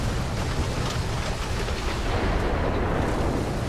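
Gunfire and battle noise from the War Thunder ground-forces game roar as a dense, continuous wash of loud rumbling bursts, with faint crackling pops layered through.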